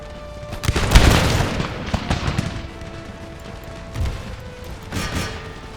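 Musket volley fire in the video game Empire: Total War, a loud crackling volley followed by scattered booms and further ragged shots fading into distant battle noise.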